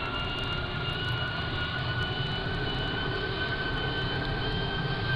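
A simulated Virgin Atlantic Boeing 747-400 departs Gatwick in a flight simulator game, its jet engines giving a steady, loud roar with a constant whine on top.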